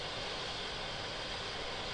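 A Yak-40 jet engine spins up during start, giving a steady, loud, broadband roar with a high whine that continues without a break.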